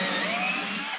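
A power drill bores into a thick piece of timber, a loud close steady whine with rising tones that stops abruptly after about a second.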